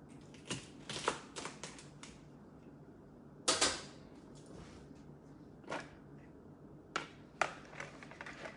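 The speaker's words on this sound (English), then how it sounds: "I'm gonna cut these real quick" Pork chops for a baked ranch dish are cut with a knife, producing scattered sharp clicks and taps against a board at an uneven pace, fairly faint and close, with no talking.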